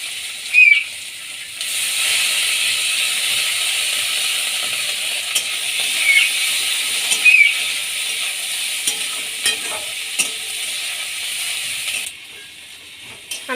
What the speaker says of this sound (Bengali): এবার কুচনো পেঁয়াজগুলো দিয়ে দেব।